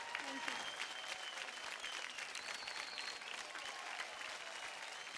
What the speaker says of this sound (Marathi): जोरदार टाळ्या होऊन जाऊ त्या दोघीसाठी